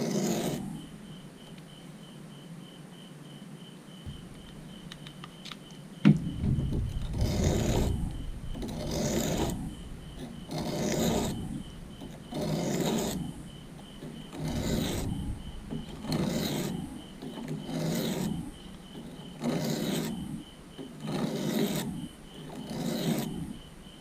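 Hand file worked back and forth over a damaged Fiskars pruner blade to sharpen it, a steady rhythm of close, raspy scraping strokes, about a dozen even passes after a quiet start, with no talk.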